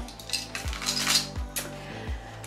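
Lightweight AliExpress necklace jingling, a few light metallic clinks and rattles that come in loose clusters, fairly close and soft, with no talk over them.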